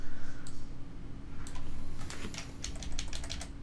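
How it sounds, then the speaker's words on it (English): A hex colour code is tapped out on a computer keyboard, a quick run of crisp, close keystrokes clustered in the second half over a steady background hum. "You can either just drag this up to white or type in the hex code FFFFFF6Fs for white."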